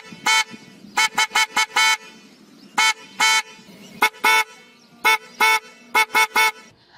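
Pressure horns blaring in city traffic in Akola, India: loud repeated blasts in short bursts and quick double and triple toots, close by, with faint traffic noise between them.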